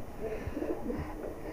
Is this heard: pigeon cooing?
yes